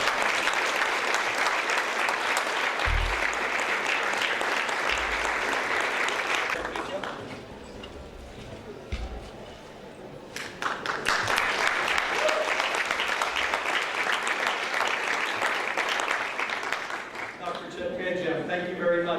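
Applause fills a formal gala hall after honorees are thanked, a sustained crowd clapping that dips briefly midway and then swells again. A speaking voice runs underneath, and talk returns at the end.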